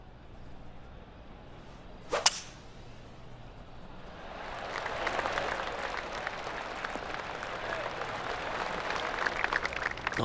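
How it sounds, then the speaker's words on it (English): In the video game PGA TOUR 2K25 at TPC Scottsdale, a sharp whoosh swings past, then a gentle round of golf applause rises and continues, moderate and steady, from a small crowd clapping politely. "Oh, golf clap."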